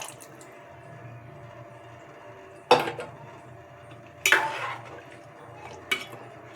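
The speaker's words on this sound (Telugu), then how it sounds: "నాకు ఇంకో సపోర్ట్ ఏమీ లేక నేను ఇలా కలుపుతున్నాను స్లోగా" Ladle slowly stirring fish curry in a metal pot, a few scattered scraping clinks against the pot spaced seconds apart over a low, steady kitchen background.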